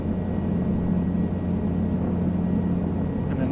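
Helicopter rotor and engine drone steadily and loudly during a normal takeoff in Microsoft Flight Simulator 2020, a dense continuous low rumble with a throbbing hum and no breaks.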